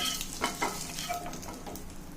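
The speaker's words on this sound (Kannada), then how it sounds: "ಕರಿಬೇವು ಸೊಪ್ಪು ಲೈಟಾಗಿ ಫ್ರೈ ಆದರೆ ಸಾಕು" Prawns and curry leaves frying over a low flame, giving a close, steady sizzle with light stirring scrapes throughout the short stretch; no voices.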